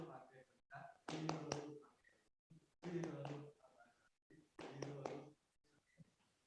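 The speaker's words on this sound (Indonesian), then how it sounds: "Yang ketiga, tepuk derek." Rhythmic hand claps in a scouting-style derek clapping pattern, three bursts of close, fairly loud claps separated by short pauses, with no talk over them.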